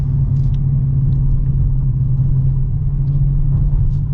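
A 2022 Dodge Challenger R/T engine rumbles steadily, deep and loud, with a constant low idle-like drone throughout and no voices.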